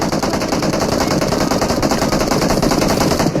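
Sustained rapid gunfire from several different guns in a shooter video game, loud and continuous automatic bursts overlapping throughout, no speech.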